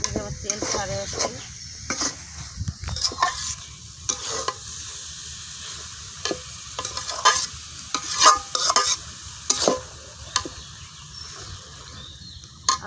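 Ground coriander, cardamom and cinnamon frying in hot oil in a village kitchen, a crisp sizzle broken by repeated sharp stirring scrapes and spoon knocks, close and lively, no speech.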